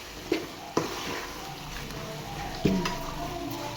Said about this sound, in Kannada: ಈಗ ಬೆಳ್ಳುಳ್ಳಿ ಎಲ್ಲ ಚಂದ ಫ್ರೈ ಆಗಿದ್ದವು